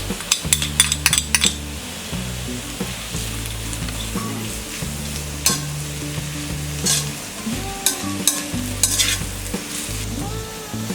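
Grated carrot and salt cook in a pan over a low flame for carrot rice, frying with a steady soft sizzle, broken by occasional stirring and clinks of a utensil against the pan.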